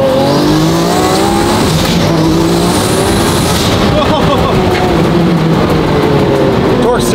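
A twin-turbo Lamborghini Aventador SVJ engine roars loudly as it accelerates hard, pitch climbing steadily with a faint turbo whine, then a brief shift and more revving.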